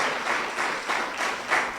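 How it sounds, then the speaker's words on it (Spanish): A church congregation applauds warmly, a short burst of many hands clapping in swelling, rolling waves that fill the space. "Denle un fuerte aplauso a Jesucristo."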